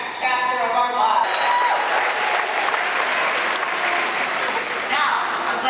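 An audience fills a basketball hall with sustained applause and cheering at a Kellogg master's graduation ceremony, a dense, even wash of clapping that carries on without break.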